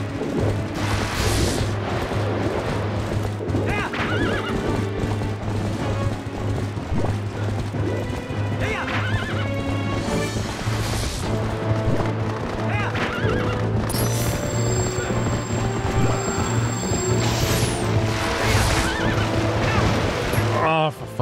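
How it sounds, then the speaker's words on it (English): Phantom horses in The Legend of Zelda: Twilight Princess HD neigh and whinny repeatedly over galloping hooves and a dense, loud game soundtrack throughout. "I get hit by those phantom horses."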